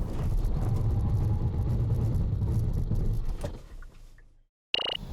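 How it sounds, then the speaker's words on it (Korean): A 2021 Kia Carnival 2.2 diesel makes a braking test stop, heard as a loud rumbling road and engine drone that fades as the vehicle slows to a halt. A short silence follows, then a sharp burst of another sound. "우선 이 기아 카니발 얼마나 잘 서는지 한번 볼까요?"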